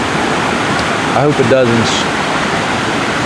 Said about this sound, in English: We have had a ton of rain in the last couple days, so the creek is running pretty well